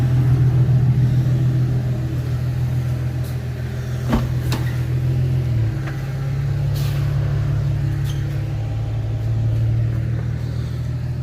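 A loud Infiniti G37 engine runs nearby with a steady, deep rumble and a brief dip partway through, a few faint knocks sounding over it.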